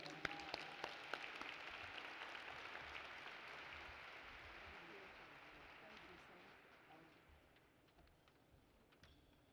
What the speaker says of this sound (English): Please give a round of applause for Ms. Lori Robinson Hayden.